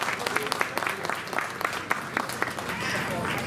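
A crowd at the opening of the Shinjuku Trad Jazz Festival claps for the ward mayor, with brisk, fairly loud applause of scattered individual claps that settles into an even wash.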